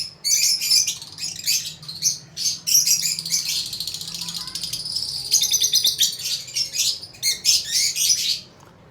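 Lovebirds in an aviary keep up dense, busy chirping and high tweeting throughout, with overlapping calls rising and falling in bursts, fairly close and lively, with no talk over them.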